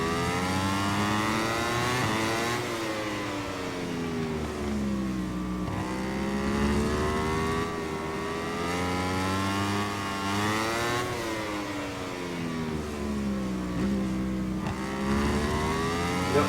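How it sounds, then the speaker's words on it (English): A MotoGP racing motorcycle engine in the MotoGP 22 video game screams through repeated rises and falls in pitch as the bike accelerates and brakes at the Austin circuit, steady and loud throughout with no voices. "Turn it off just as we come into the braking area."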